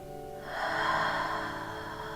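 A slow yoga breath, a soft airy exhale swelling and fading close to the ear, heard alone without talk.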